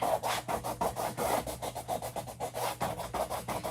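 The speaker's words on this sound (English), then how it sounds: "It's really helpful to have our little handy dandy paste scraper. See how it's getting a lot of this paste up?" A paste scraper drags chalk paste off a surface in a fast series of short rasping strokes, close and fairly quiet, with a soft steady hum beneath.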